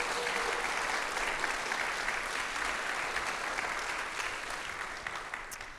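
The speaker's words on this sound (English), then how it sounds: "Let's give her one more round of applause" A church congregation at a Sunday worship service applauds steadily for several seconds, a continuous wash of clapping without speech that gently fades toward the end.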